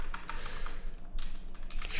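Rapid, close clicking of keys as a word is typed on a computer keyboard, short bursts of keystrokes with no voice.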